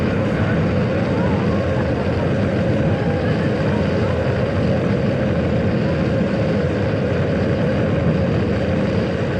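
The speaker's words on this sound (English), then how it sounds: "We've gone for main engine start." Rocket main engine start effect on a Legoland Windsor ride, a loud, steady roaring rumble that holds at constant strength for the whole stretch.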